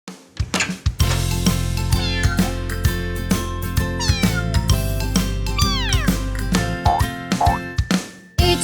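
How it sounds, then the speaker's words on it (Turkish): A cat meows repeatedly up close, loud rising and falling cries over a steady low hum, with a few sharp clicks between calls. "küçük kedi"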